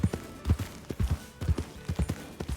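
Horse hooves clip-clop in Red Dead Redemption 2, a quick irregular series of soft thuds at a walking gait, close and fairly quiet.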